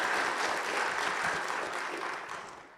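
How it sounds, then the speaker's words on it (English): Audience applause for Mohammed at a program gathering, a short burst of steady clapping that fades away toward the end. "Can we clap for Mohammed also?"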